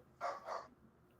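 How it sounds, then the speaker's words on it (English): A dog barks twice in the background during an online call, the two quick barks close together, faint and a little distant, with nothing else loud around them. "I got the dog going off in the background."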